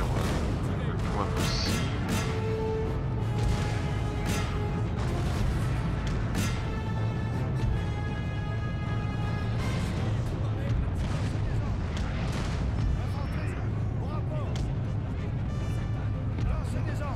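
Cannon fire in the Napoleonic-era strategy game Napoleon: Total War during the Peninsula campaign battle at Faro, heard as repeated booms within dense battle noise under continuous talk.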